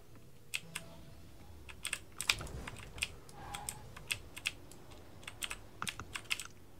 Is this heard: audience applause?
no